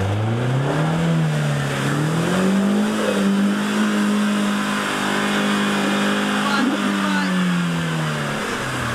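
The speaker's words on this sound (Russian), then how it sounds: "Я эту лужу прохожу немного сложнее, чем те два дастера" Nissan Patrol SUV engine revving steadily as it drives through a muddy puddle, a loud continuous drone whose pitch rises and holds, then eases, with splashing texture throughout.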